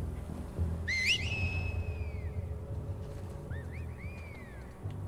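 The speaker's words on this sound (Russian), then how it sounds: "Меньше свиста, больше дела." Whistling from The Last of Us Part II: a pair of loud rising-and-falling whistle calls sound early, followed by a fainter answering whistle, over a low rumbling game ambience with no talk.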